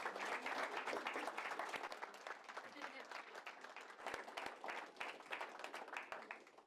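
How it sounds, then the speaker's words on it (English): A lecture audience applauds a scholarship recipient, sustained dense clapping from a crowd that gradually thins, with some voices mixed in. "let's please give her a round of applause"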